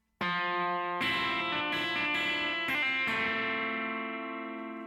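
A distorted electric guitar plays a measure of a song, ringing out in a few sustained strums and chord changes, bright and loud, with the last chord left ringing.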